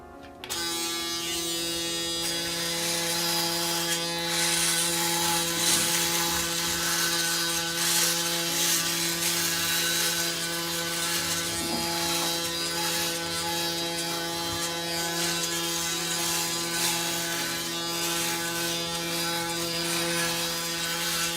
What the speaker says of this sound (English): we're going to test out the razor this morning